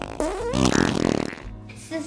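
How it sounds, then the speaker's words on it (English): A fart sound effect, part of a comedic fart gun salute, makes a loud, buzzing, rippling blast of about two seconds that sputters and fades. "For your years of service, the 21 Fart Gun Salute."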